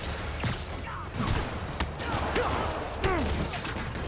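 Rocket launcher fire and explosive combat bursts in a Spider-Man video game, several sharp blasts and mechanical clanks scattered over a steady noisy battle backdrop, moderately loud.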